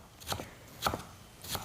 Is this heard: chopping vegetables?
yes